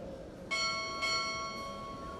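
A ship's bell struck twice at a navy chief petty officer pinning ceremony, two clear ringing strikes about half a second apart, each leaving a long shimmering decay over faint room ambience.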